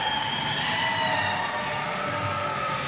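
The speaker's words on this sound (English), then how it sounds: "And listen to that crowd." A wrestling crowd at an Appalachian Mountain Wrestling Thanksgiving show cheers and hollers steadily for a huge 7-foot, 500-pound wrestler, a dense, continuous roar of voices filling an indoor arena without letup.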